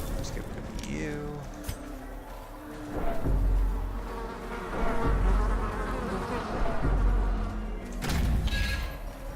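An insect hive in the video game Darkest Dungeon gives off a steady droning buzz, with someone talking over it and louder swells at intervals.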